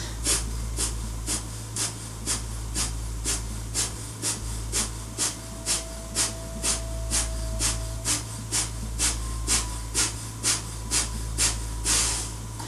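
Rapid, forceful exhalations during a kriya breathing purification exercise. Around two dozen short, sharp breath pulses come in a steady, quick rhythm, close and fairly quiet, over a low background hum.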